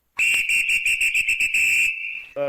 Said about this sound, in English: So if you hear that whistle normally when we're in a mission, that means I want everyone throwing a frag to their front.